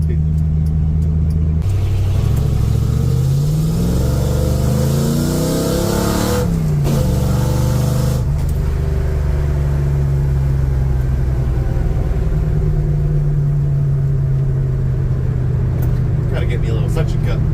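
A Ford F100 truck's engine rumbles close up and loud, with gear-change rises and falls in revs early on before it settles into a steady low drone while the vehicle drives.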